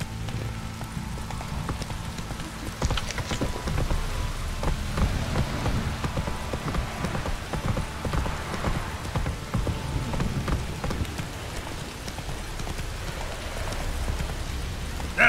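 Roach, a horse in The Witcher 3, gallops through rain with a steady, close clip-clop of hooves under a wash of rainfall, running continuously throughout.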